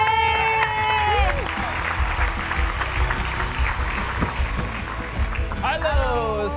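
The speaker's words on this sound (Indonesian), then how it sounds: "Tepuk tangan lagi dong" A TV game show studio crowd claps steadily throughout, while an announcer's amplified voice rises over the applause at the start and end.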